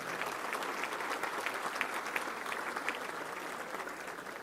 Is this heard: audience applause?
yes